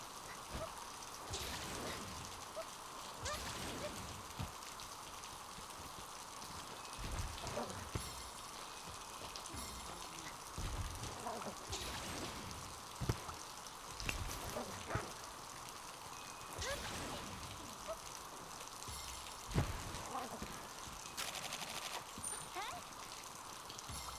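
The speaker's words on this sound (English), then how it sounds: "I don't know if I can make the rain louder." Steady rain ambience runs as a continuous broadband hiss throughout, with soft droplet texture and a few brief louder taps, sitting faintly under occasional background voices.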